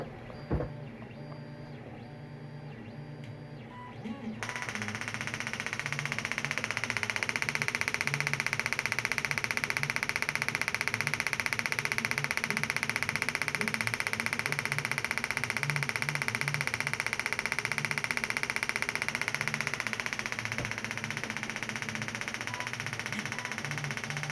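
Two Honda 3.7L V6 ignition coils from a Legend or Odyssey fire in wasted spark mode on a bench, roughly simulating 900 to 1800 RPM. After a few quiet seconds a loud, steady buzzing crackle starts and holds without a break, with no talk.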